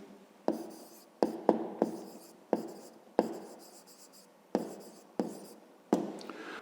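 Handwriting a math solution for a fifth-grade exercise: quiet scratchy strokes broken by crisp taps as the writing tool meets the surface, an irregular series of close, soft sounds with no talking.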